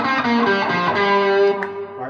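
Electric guitar through a Bluesbreaker MK1 clone overdrive pedal built by Csongor Árpási, with tone, distortion and level all turned high, rings out as a loud, sustained, harmonically rich overdriven chord that holds for about a second and a half, then thins and fades.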